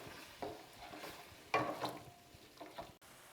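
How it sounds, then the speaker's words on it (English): Dry Italian white wine simmering and reducing in a pan over medium-high heat, a quiet bubbling and sizzling hiss with a few louder stirring scrapes. "it should be boiling away just like this at a steady simmer"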